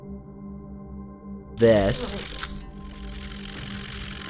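A toy bird gives off strange electronic noises: a short spoken word, then a burst of warbling tones that settles into a steady high whine with rapid pulsing, fairly close and loud.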